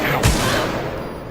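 Gunfire aimed at the player in Alien Isolation, a sharp loud burst near the start that trails into a dense rattling barrage, with faint talk in the background.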